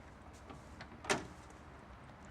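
An old Land Rover's simple sliding-type door gives one brief, fairly close clunk partway through, standing out from a quiet background with faint rustles around it.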